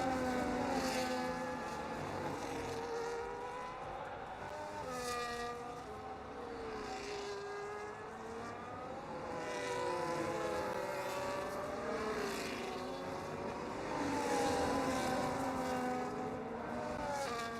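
Race cars in a racing video game at Spa roar past one after another, their engine notes rising and falling through gear changes in a steady, loud stream over about eighteen seconds.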